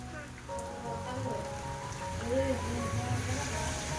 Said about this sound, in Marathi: पाऊस पण सुरू झाला आहे